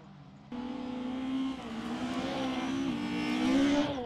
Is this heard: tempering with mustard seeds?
no